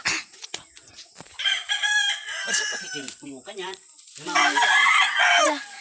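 A rooster at a backyard chicken farm crows loudly and close, with a long drawn-out call followed by clucking and a second crow, while a person talks briefly in between.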